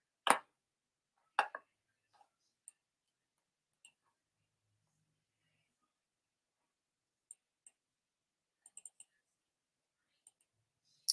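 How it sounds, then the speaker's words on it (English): A computer mouse clicks quickly in short bursts, with crisp close taps scattered over quiet gaps and a few clusters of rapid double clicks. The clicks are faint and there is no speech. "Might be clicking too daggone fast."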